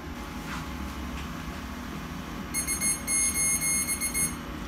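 An MRU SWG 100 biogas and landfill gas analyzer sounds its warning alarm for low sample gas flow, a repeated high electronic beeping in short rapid pulses over a steady low machine hum.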